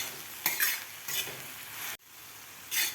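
Ambadi (roselle) leaves sautéed in a pan for a rustic chutney, with soft sizzling and several spoon-stirring scrapes coming in bursts, close and moderately loud, no talk.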